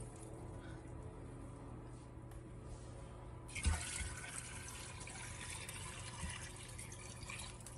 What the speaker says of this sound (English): fill the whole thing up with water to your max line